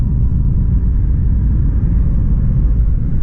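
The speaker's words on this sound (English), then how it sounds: "All right, here we are in the Jeep" A Jeep drives along a road, heard from inside as a loud, steady low engine and tyre rumble with no breaks.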